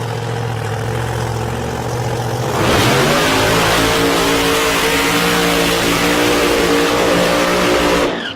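Door slammer drag racing car of about 3,500 horsepower rumbling to the start line at Alice Springs, a loud deep idle that swells into a harder, rising roar partway through before cutting off at the end.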